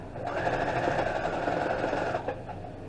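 A sewing machine stitching steadily while free-motion quilting a panel runs as a close, even mechanical whir for about two seconds, then stops abruptly. No one speaks over it.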